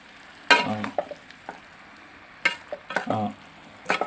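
Beef and cassava biriyani, Kerala Kottayam style, is stirred and mixed in a pan. A few separate scraping bursts stand out close by, with quiet gaps between them.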